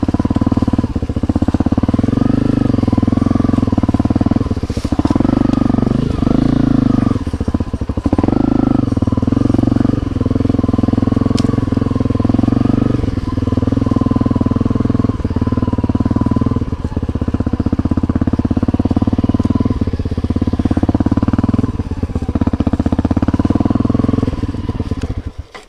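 A Honda CRF250L dual-sport motorcycle rides a trail with a steady, loud engine drone throughout, rising and falling slightly with throttle changes and rough bumps, close to the microphone.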